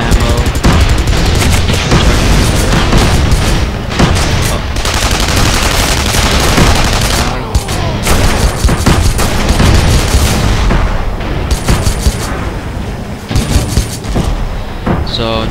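Video game gunfire: dense bursts of rapid automatic shots and booms crackle loudly and almost nonstop, with brief gaps, while a player talks over the action.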